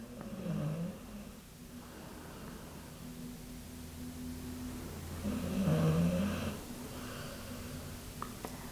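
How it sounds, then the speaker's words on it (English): A dog snores softly in a quiet room during an at-home yoga session, with two slow rasping breaths a few seconds apart over a steady low hum. "Trying to keep my timing lined up with Teton snores."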